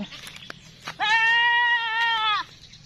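A farm goat gives one loud, clear bleat lasting over a second, close by, with a few faint knocks and rustles before it.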